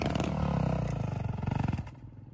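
A motorcycle climbs a hill nearby with a loud, pulsing engine drone and clatter that strains and then fades away.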